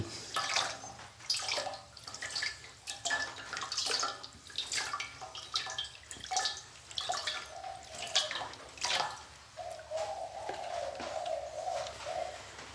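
Water is sprinkled over a clutch of apple snail eggs kept for hatching on a farm, giving soft, irregular splashes and drips throughout, with birds cooing and calling in the background.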